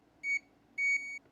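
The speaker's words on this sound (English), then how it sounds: "Okay, we got beeps on all 3 of those." A continuity tester sounds two clear electronic tones on a Game Boy Advance circuit board, one short beep and then a longer one that drops slightly in level partway through, in a quiet room.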